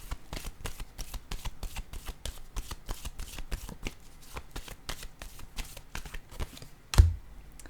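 Playing cards handled and set down on a table, a fast run of crisp, close clicks and flicks, with one firmer slap near the end.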